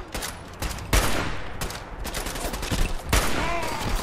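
Gunfire in Fallout 4 against a legendary super mutant: a volley of sharp, loud shots bursts in irregular clusters over a busy game soundscape, with heavy impacts at the start and near the end.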